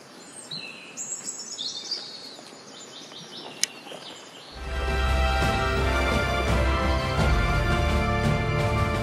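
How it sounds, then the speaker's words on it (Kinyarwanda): A small bird chirps in quick, thin, high notes, then a louder steady wash of noise rises and covers the calls. "nuko nongeye gukunda basigariye mbona akanyoni karimo karavuga"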